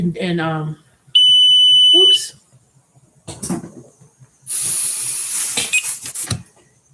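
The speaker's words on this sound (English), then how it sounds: "I'm turning off my dang alarm that's not even active." A smoke alarm sounds in sharp, piercing electronic bursts, loud and close, with gaps of quiet and a hissy burst between beeps, and someone talking around it.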